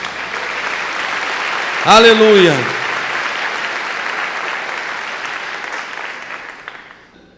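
A church congregation applauds steadily throughout, with a voice shouting out briefly near the start over the dense clapping before it fades away at the end.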